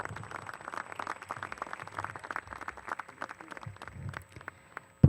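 Scattered applause from a high school graduation audience, soft and somewhat distant, continuing steadily before a sudden thump at the very end.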